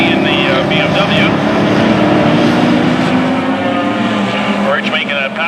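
Closed-wheel race cars, BMWs and Mustangs, roar continuously at Mission Raceway heading into turn 1, a loud sustained engine drone with shifting pitch under a commentator's steady talk.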